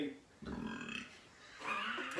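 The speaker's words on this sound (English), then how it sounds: "I make a good burp" A man belches two drawn-out, voiced burps in a row, each one croaking and fairly loud, with a brief lull between them.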